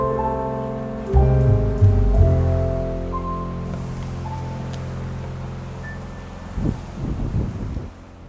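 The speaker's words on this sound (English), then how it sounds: "Got a bit windy up there" Gusts of wind sweep over the Perrin Sand Dunes in north-east Tasmania, buffeting the microphone in loud rushing bursts above a steady low hum, easing off in between.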